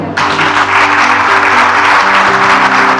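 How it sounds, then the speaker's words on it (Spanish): A church congregation bursts into loud, sustained applause, a dense wash of clapping with low sustained tones beneath it, filling the whole stretch after a brief quieter start. "Den un fuerte aplauso al Señor."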